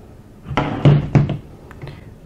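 Metal parts of a Valmet RK62 rifle knock as the bolt group is pulled out, three or four close, solid clunks and clicks in quick succession followed by a faint rattle, with no talking.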